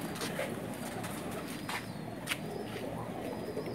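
Soft, low pigeon coos from a rooftop loft in Pakistan repeat intermittently over a steady background murmur, with a few brief sharper bird notes mixed in.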